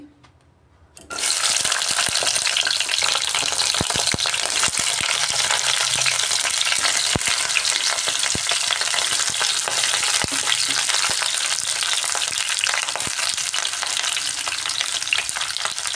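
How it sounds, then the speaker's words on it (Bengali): Sliced pointed gourd frying in refined oil, a loud continuous crackling sizzle that bursts in after a second of quiet and holds steady with occasional pops, close and without talk. "এবারে রিফাইন্ড অয়েলের মধ্যে কেটে রাখা পটলগুলো ভেজে নিচ্ছি"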